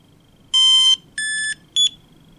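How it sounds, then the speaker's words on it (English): A Bluetooth Socket barcode scanner emits three loud electronic beeps during a factory reset, two longer tones followed by a short one, clear and alone against faint background hiss. "It'll make that beeping sound and it'll turn itself off."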